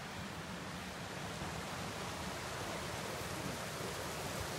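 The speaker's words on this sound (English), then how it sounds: "I don't know what creek this is." Creek water flows steadily through Olympic National Forest on an overcast day. It makes a constant, even, broadband rush at low to moderate level, with no voices over it.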